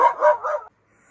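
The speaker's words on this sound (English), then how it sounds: "The puppy dogs do not like it when people drive down the road." Puppies barking at passing cars on a road, a close burst of three or four quick yapping barks that cuts off abruptly into near silence.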